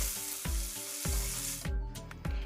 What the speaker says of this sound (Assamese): পিঁয়াজখিনি অলপ টাইম ফ্ৰাই কৰাৰ পাছত মই কাটি থোৱা বিলাহীবিলাক দি দিছোঁ।